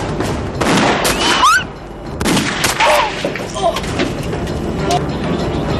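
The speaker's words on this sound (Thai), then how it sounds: "เสียงปืนเมื่อกี้ของแกใช่ไหมแกยิงใคร" Bursts of gunfire and sharp booms mixed with shouting voices, loud and chaotic, settling into a quieter rumble toward the end.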